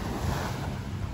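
Water flows and washes along a beach with tide pools at low tide, a steady broad rush with wind buffeting the microphone.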